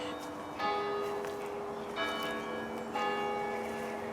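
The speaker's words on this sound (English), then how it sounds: "it's spooky when the church bells ring like that" Church bells in Warwickshire ring out in three clear strikes about a second apart, their long tones humming and overlapping against a soft background hiss.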